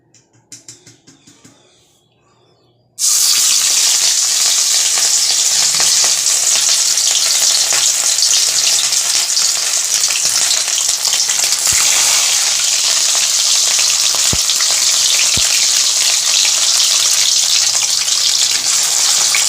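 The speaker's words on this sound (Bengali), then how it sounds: "এভাবে এক এক করে মাছগুলোকে আমি লাল করে ভেজে ভেজে তুলে রাখবো" Fish pieces drop into hot oil in a kadai: after a few quiet knocks, a loud, dense, sustained crackling sizzle bursts in and holds steady at close range.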